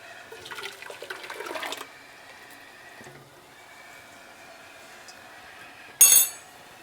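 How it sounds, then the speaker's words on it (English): A pressure canner loaded with five pints of tomato soup bubbles and hisses in uneven watery surges nearby. A sharp, loud burst of venting comes near the end. "Man, my canner over here is going crazy."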